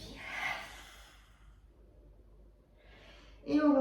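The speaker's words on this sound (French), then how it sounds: "Inspire et expire." Breathing in and out during a vinyasa yoga session: a soft, breathy exhale near the start, a quiet pause, then a sharper inhale or snort-like breath at the end, close and alone.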